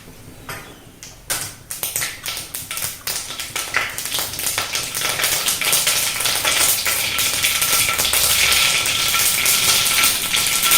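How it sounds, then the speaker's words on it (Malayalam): Mustard seeds go into hot coconut oil in a pan. Scattered sharp pops and crackles quickly thicken into a dense, continuous crackling sizzle that holds steady and close, with no voices. "എണ്ണ മൂത്ത് കഴിഞ്ഞ് ഇനി കടുക് ഇടുക"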